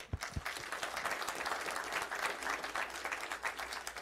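Applause at a Tulsa city council meeting honoring city employees' service anniversaries, a crowd clapping steadily for several seconds, moderately distant and without speech.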